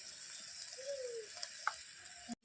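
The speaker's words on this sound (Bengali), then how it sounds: "শাকটা দিয়ে এবার শাকটা ভেজে নেব। একটু হলুদ" Leafy greens fry with turmeric in a pan, giving a steady soft sizzle throughout with a few faint clinks of a utensil, ending in an abrupt cutoff.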